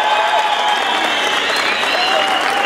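A crowd at a tournament in Tamazulapan claps loudly and continuously for Rancho Dolceo, a dense, sustained wash of applause with whistles rising above it.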